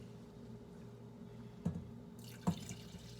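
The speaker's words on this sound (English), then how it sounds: "I'm gonna go ahead and add the milk into our roux." Milk is poured into a simmering roux for a sauce, a soft liquid trickle with a couple of gentle splashes close by over a low steady background hum.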